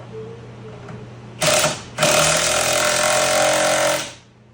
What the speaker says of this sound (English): we'll go ahead and snug it up with the impact